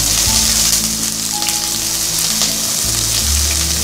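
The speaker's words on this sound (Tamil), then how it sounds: "இஞ்சி பூண்டு விழுது போடுறதுக்கு முன்னாடி நான் வெங்காயம் போடுறேன்" Onions frying in hot oil in a pan for vegetable pulao, ahead of the ginger garlic paste, give a steady loud sizzle with a faint stir near the end and no talking.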